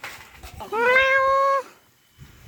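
A cat gives one long, loud, drawn-out meow close by, with quieter rustling before and after.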